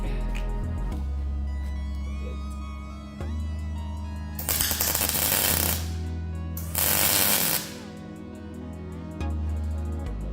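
A welder spot-welds an exhaust flexi pipe on a Ford Fiesta 1.0-litre EcoBoost, producing two loud, harsh buzzing bursts of about a second each, preceded by a steady background hum.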